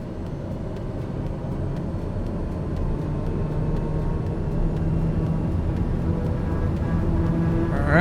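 A TBM850 turboprop in Microsoft Flight Simulator 2020 rolls for takeoff, a steady engine drone that slowly builds in loudness over several seconds, with no talk over it.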